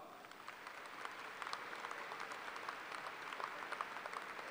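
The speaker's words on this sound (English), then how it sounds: "Give her a round of applause." A crowd claps steadily at Murray State University's May 2017 commencement ceremony, a dense, even patter of many hands heard from a distance, fairly faint and continuous with no talking over it.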